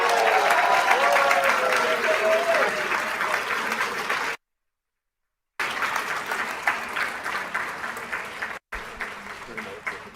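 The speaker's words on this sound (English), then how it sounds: "And we'd like to give all of our honorees this evening a huge round of applause." Crowd applause for honorees at a school governing board meeting: sustained clapping from a room of people, steady and fairly loud, broken by brief cuts of silence before resuming.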